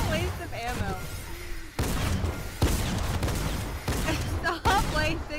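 Gunfire in Fortnite, repeated sharp shots popping amid game sounds while players talk over the action.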